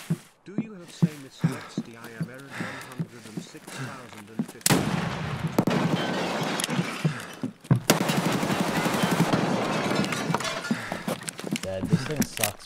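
Video game gunfire crackles in bursts of rapid shots, loud and dense in the second half, mixed with speech and game noise.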